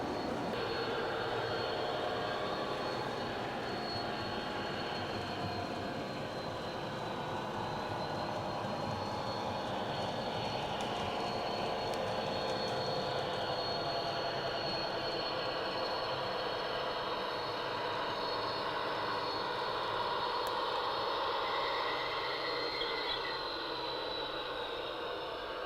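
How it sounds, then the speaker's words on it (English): Wagons on a model railway layout roll along the track on dogfish-style plastic wheels, giving a continuous loud rumbling clatter with a high metallic hiss that holds steady for the whole stretch, with no talking. "And now you can really hear the noise of those filthy dogfish wheels."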